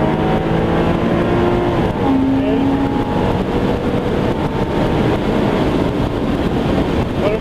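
A 2002 Porsche Boxster S Tiptronic accelerating hard from a stop, its engine loud and rising steadily in pitch through first gear and easing into a shift, with strong wind rush throughout.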